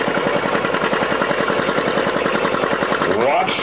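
An antique John Deere tractor at a corn-festival tractor pull chugs with a loud, rapid, evenly pulsing engine throb that rises in pitch near the end, while someone talks over it.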